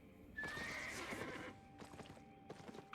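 A horse whinnies and hooves clip-clop in the online game Albion Online, with one long neigh followed by quick rhythmic hoofbeats, clear and fairly close, without speech.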